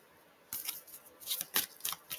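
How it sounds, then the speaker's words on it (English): A run of crisp, papery riffling bursts from a deck of playing cards being shuffled, close by, coming in quick uneven flurries after a brief quiet start. "shuffling more cards for you."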